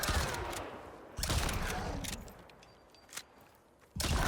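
Gunfire in the survival game Icarus during a boss hunt, bursts of rapid shots that crack close and loud, separated by a quieter stretch.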